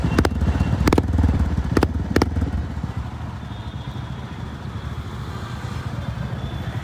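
A Honda H'ness CB350 motorcycle fitted with a Red Rooster aftermarket exhaust runs with a deep, steady low thumping note close by, with a few sharp knocks early on and then an even rumble.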